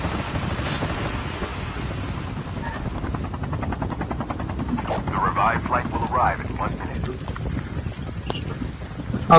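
Helicopter in Call of Duty Mobile, a steady rotor drone with wind-like rush that holds throughout, fairly loud and close, with no clear talk over it.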